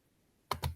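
Two quick computer mouse clicks close together, crisp and near, with no talk over them.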